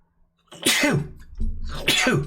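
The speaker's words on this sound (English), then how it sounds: "Oh dear, excuse me. Sneezes." Two loud, close sneezes in quick succession, each a sharp explosive burst with a breathy trailing release; no talking.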